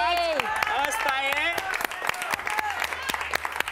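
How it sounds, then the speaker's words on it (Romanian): Gala audience applauding a women's award winner at a success awards ceremony, scattered sharp claps beneath and after overlapping talk and laughter, thinning toward the end. "vă rog frumos să-l aplaudați"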